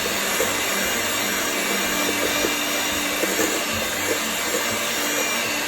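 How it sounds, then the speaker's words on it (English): An electric mixer whirs steadily as it crumbles plain cake into crumbs for chocolate fudge truffles, a loud, continuous motor hum with a faint rattling texture, close by and without talk. "I'm just going to turn the mixer on and crumble it up real quick"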